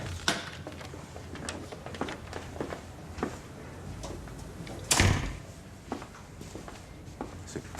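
In a tense indoor drama scene, a door is forced open with one loud, sharp bang partway through. It sits amid scattered knocks, shuffling and room noise.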